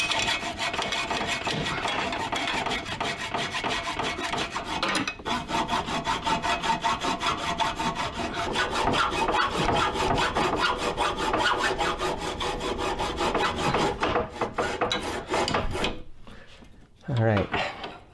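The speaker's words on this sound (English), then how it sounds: "we're going to cut all the way across through these fins" A hacksaw cuts across the thin metal fins of a car radiator in steady, rapid back-and-forth strokes, loud and close for most of the stretch before brief pauses and a few final strokes.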